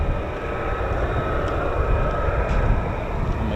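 An F-35 stealth fighter jet on a straight-in approach to runway 23 sends out a loud, steady broadband jet roar that holds evenly, with no voices over it.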